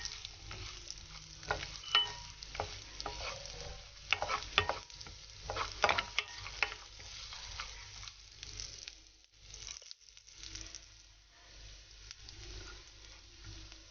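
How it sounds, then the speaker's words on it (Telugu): Cumin seeds and cashews frying in hot oil for jeera rice, a crackling sizzle with irregular scraping stirs of a spoon against the pan, close and fairly soft, no talk. "ఈ జీలకర్ర వేసిన తర్వాత దీన్ని బాగా కలుపుకుందాం మనం"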